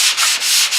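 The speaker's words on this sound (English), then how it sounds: "Let me see if I can sand that out." A sanding block rubs back and forth in rapid, even strokes, a loud close-up hiss with brief dips between passes.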